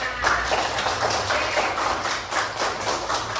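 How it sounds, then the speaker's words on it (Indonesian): A classroom of fourth-grade pupils claps their hands together in steady, dense rhythmic applause, loud and continuous throughout with no voices standing out. "Tepuk tangan untuk kita semua."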